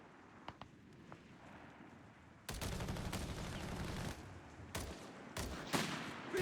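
Machine-gun fire and dense gunfire bursts in Company of Heroes 3, a World War II real-time strategy game. Sparse sharp shots open, then a loud sustained fusillade breaks in and carries on with repeated strong bursts to the end.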